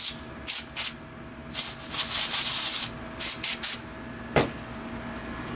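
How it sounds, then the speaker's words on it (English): A bottle of compressed air gives a series of short hissing bursts of varying length, close and fairly loud, with one sharp burst near the end, while work is done on an RC airliner tail. "I have a bottle of compressed air around here somewhere."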